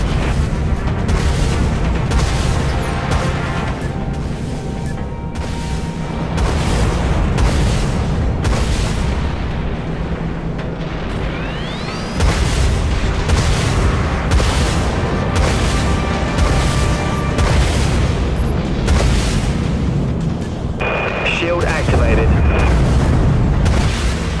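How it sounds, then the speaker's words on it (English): Vulture missiles launching and exploding in the space-combat game Dreadnought, repeated deep booms and rumbling blasts amid engine drone and electronic tones, loud and continuous, with a voice speaking briefly under the noise. "Launching Vulture missiles."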